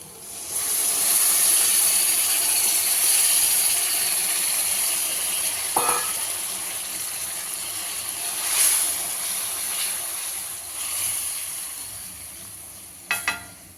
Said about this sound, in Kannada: ಬದನೆಕಾಯಿ ಮತ್ತು ಕ್ಯಾಪ್ಸಿಕಮ್ ಚೆನ್ನಾಗಿ ಎಣ್ಣೆಲಿ ಫ್ರೈ ಆಗಿದೆ ಹುಣಸೆ ರಸ ಹಾಕೋತಾ ಇದ್ದೀನಿ